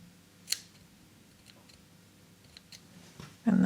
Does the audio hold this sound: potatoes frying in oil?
no